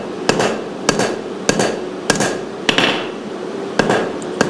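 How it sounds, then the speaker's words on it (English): A small-faced hammer strikes a metal workpiece seven times in a steady rhythm, each blow a sharp, close, ringing clank with a brief decay before the next. "I switched to the smaller hammer"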